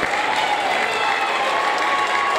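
A school audience at a seventh-grade awards ceremony claps steadily in a dense, even burst of applause that runs the whole short moment without letting up.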